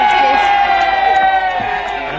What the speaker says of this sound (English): the Prince Alfred crowd goes.